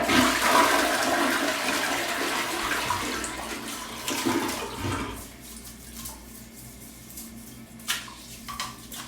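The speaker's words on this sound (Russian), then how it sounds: "Смываем." An American toilet flushes with a loud rushing roar of water that fades into gurgling and trickling, with a few small clicks at the end.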